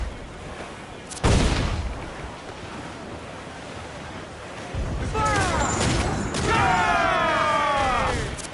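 Ship cannons firing in Assassin's Creed Black Flag during a naval fight with a slaver ship, opening with one loud boom and then rolling volleys over ocean surf and wind while voices shout.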